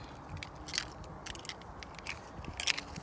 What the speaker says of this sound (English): we'll close this back up, latch it back